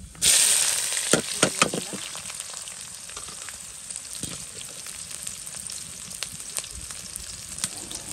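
Cardamom and cinnamon hit hot oil in a pan with a sharp initial sizzle, settling into a steady close frying hiss with small crackles and pops.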